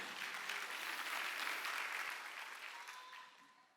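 A church congregation claps together during a Sunday worship service, a broad wash of applause that holds steady and then gradually fades away over a few seconds, with no speech over it.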